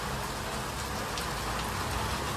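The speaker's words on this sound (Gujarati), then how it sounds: "વરસાદ તમે જોઈ શકો છો કેટલો ફૂલ ચાલુ છે" Heavy rain pours down in Navi Mumbai, a dense, steady roar of hiss with no pauses, loud and close throughout.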